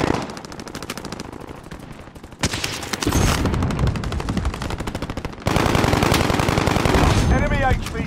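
Rapid automatic machine gun fire from Call of Duty: Modern Warfare gameplay, loud sustained bursts that pause briefly then resume even heavier, nearly continuous throughout.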